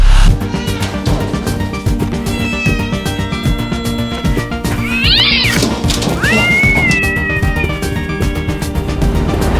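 A kitten meows repeatedly on a film set, loud, drawn-out cries with rising and falling pitch, the longest and shrillest near the middle, over some background noise.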